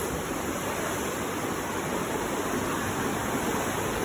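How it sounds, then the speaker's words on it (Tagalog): Kapitan Falls in Calbayog, a rocky waterfall, gives off a constant dense roar of rushing water, loud and unbroken throughout, with no voices. "Ayan yung Kapitan Falls."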